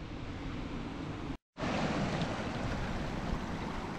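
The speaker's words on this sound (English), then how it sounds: "The whole flow of this river comes through this wee part here" River water rushes through a narrow pebble channel in Scotland, a loud, steady broadband wash with a brief dropout partway through.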